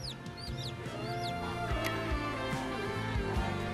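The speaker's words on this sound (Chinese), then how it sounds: "小鸡，小鸡" Young chicks chirp and cluck on a farm, producing high rising peeps over a bed of lower clucking and murmuring fowl sounds, all fairly soft and steady with no talking.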